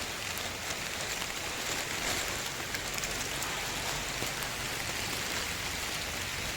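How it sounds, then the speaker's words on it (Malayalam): Heavy rain pours outdoors onto water-filled buckets of water lilies, a steady dense hiss that stays loud and even from start to finish, with no voices. "നല്ല മഴയാണ്, തന്നെ വെള്ളം നിറഞ്ഞോളൂ."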